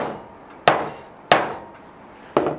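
Three sharp mallet taps drive the burr carrier of a DF64 Gen2 coffee grinder into place, each hit clear and close with a short ringing decay, spaced unevenly over a quiet background.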